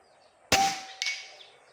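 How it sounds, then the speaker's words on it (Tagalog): An air rifle pellet from an upgraded PCP gun strikes a metal target with a sharp, bright clang and a ringing tail, followed half a second later by a second fainter metallic ping, against a quiet background. "Okay, firing."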